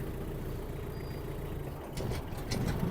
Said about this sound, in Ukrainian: Вжимаємо педаль щеплення, вмикаємо швидкість і реверс напрямок руху.